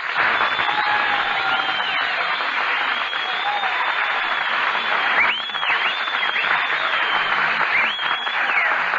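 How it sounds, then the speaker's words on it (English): A 1940s radio studio audience applauds steadily and loudly, dense clapping sustained with no pause throughout. "Stop applauding."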